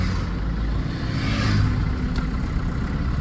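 A small motorbike passes by on a road in Odisha, its mid-pitched engine whirring and swelling as it draws nearest, then easing off, over steady road noise with no talk.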